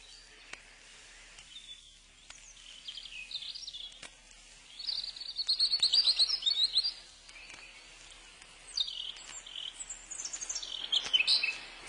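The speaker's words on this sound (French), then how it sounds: "Non, c'est le rouge-gorge. Il vient juste avant le rossignol" A European robin sings at dusk, bright high warbling phrases coming in separate bursts with quiet gaps between them, fairly close and alone against a calm background.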